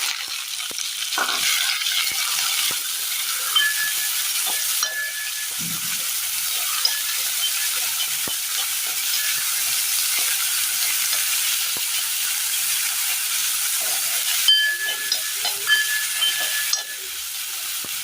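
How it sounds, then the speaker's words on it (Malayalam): Sliced onions sauté in a pan for a Kerala tea-time snack, giving a steady, close, broadband sizzle that runs unbroken for the whole stretch, with scattered scraping and stirring clicks. "നന്നായി ഉള്ളിയൊക്കെ വഴണ്ട് വന്നിട്ടുണ്ട്."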